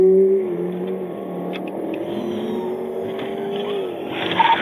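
A car engine surges and accelerates hard during a late-night police pursuit through Atlanta streets, a steady loud revving roar that holds throughout with no speech over it.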